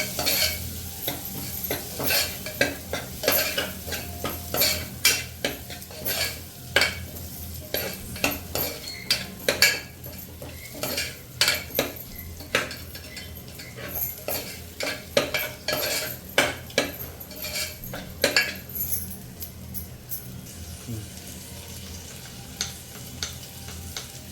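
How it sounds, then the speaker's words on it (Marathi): Sweet corn being stirred and roasted in a pan gives a quiet, close run of spoon scrapes and clicks against the metal over a soft sizzle, with no talking. "छान असं मिक्स करून घ्यायचं आहे थोडे भाजून घ्यायचे आहेत आपले स्वीट कॉर्न"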